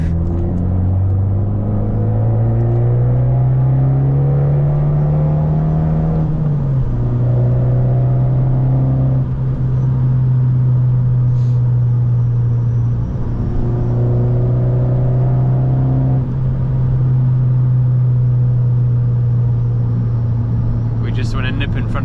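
An Abarth 595 engine accelerates in third gear out of a roundabout, a loud steady drone rising in pitch, dipping briefly at a gear change, then pulling again. The sound is heard close from inside the car.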